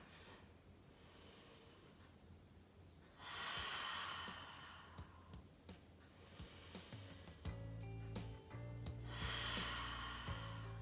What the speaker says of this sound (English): We are going to take 3 big breaths.